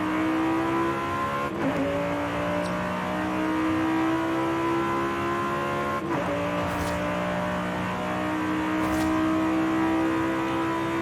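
A race car engine in Forza Horizon 5 whines at high revs from inside the cabin, steady and loud, with gear shifts briefly dipping the pitch twice.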